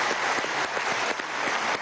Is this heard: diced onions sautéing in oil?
no